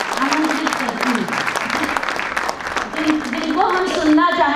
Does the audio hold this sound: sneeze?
no